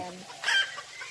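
A bantam chicken at Ubon zoo in Thailand gives a single short, sharp cluck-like call, close by, in a brief moment with quiet background.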